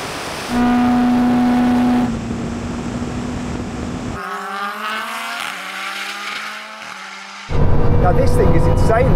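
A Bugatti Chiron Super Sport drag races a 1600-horsepower Lamborghini Huracan from a rolling start around 40 mph, engines droning loud and steady, then rising in pitch as one car pulls past, with wind and road noise.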